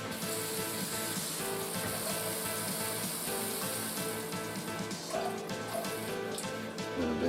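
Water is poured steadily into chocolate cherry swirl cake mix in a bowl, making a continuous close splashing and trickling with no voices.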